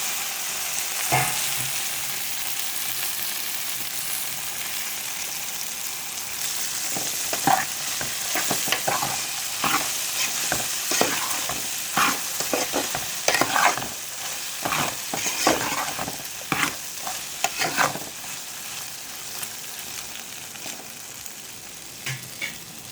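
Okra pieces stir-fry in hot oil, giving a continuous soft sizzle with repeated scraping and stirring strokes from a spatula, close and fairly quiet, with no talking.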